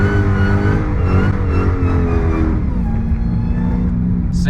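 Car engine revving hard while the driver left-foot brakes during a drifting run, a loud sustained drone that drops in pitch near the end, with no talking.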